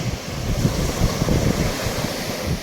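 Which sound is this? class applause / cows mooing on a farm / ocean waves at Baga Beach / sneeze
ocean waves at Baga Beach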